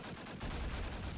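Gunfire in the multiplayer video game Call of Duty 1 on the Carentan map, a burst of rapid shots at moderate distance, fairly faint and continuous over a low rumble.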